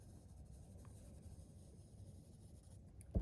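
Pencil drawing a curb line on paper during two-point perspective practice, a faint, steady scratchy rasp heard up close, ending in a slightly louder tap.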